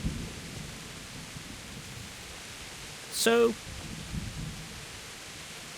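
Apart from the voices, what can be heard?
rain and thunder in the video game Kingdom Come: Deliverance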